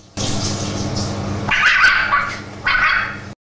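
A young fox cub gives bark-like sounds, a few yelping, whimpering calls, with a louder pair of sharp, dog-like barks in the middle, close and clear.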